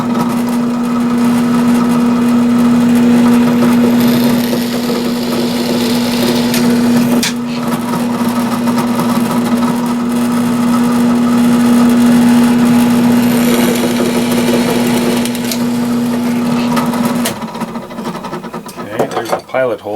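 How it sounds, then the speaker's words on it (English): A power drill whines steadily at high speed drilling a pilot hole for a rod bender, close and loud, with a brief dip midway and the motor winding down at the end. "I'm set up now to drill the pilot hole"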